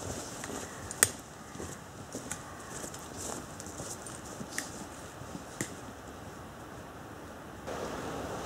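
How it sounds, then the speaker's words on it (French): A river flows somewhere below a hiking trail in the Creuse gorges near Champsanglard. It makes a faint, steady, distant wash, with a few soft footstep-like knocks and no voices. "En bas, on entend la rivière."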